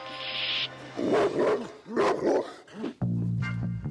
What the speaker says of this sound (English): Larger dogs have longer vocal folds and larger lungs. That produces a deeper, louder bark.